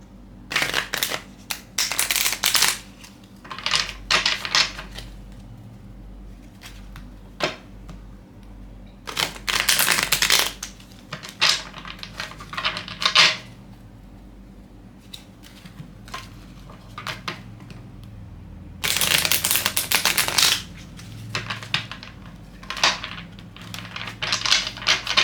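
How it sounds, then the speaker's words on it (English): Deck of tarot cards shuffled by hand in two parts, several bursts of crisp riffling and flicking separated by quiet pauses, close and fairly loud with no talking. "sorry. I have to shuffle this in two parts."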